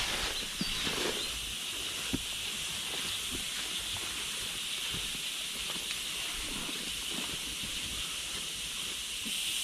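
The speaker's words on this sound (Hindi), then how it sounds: "इंसेक्ट्स पीछे जो बोल रहे हैं ये हज़ारों में हैं" A dense chorus of insects calls in a Himalayan forest, a steady high-pitched shimmering drone that holds throughout with faint scattered clicks beneath it.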